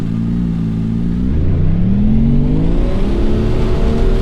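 Porsche 911 GT3 RS engine in the Assetto Corsa racing sim on a lap of the Nordschleife, a loud, close, continuous engine drone that rises in pitch as the car accelerates through the gears, with no talk.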